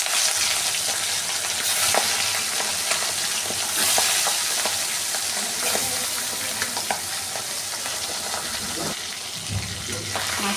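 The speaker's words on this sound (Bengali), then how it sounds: "কড়াইতে তেল দিয়ে দিয়েছি, এবার আমি হলুদ দিয়ে মাখিয়ে রাখা মাছের মাথাগুলো ভেজে নেব।" Turmeric-coated fish heads fry in hot oil in a wok, a dense steady sizzle with sharp crackles and occasional stirring clinks running throughout, close and fairly loud, with no talk.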